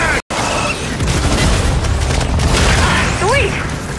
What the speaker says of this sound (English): Incoming frag!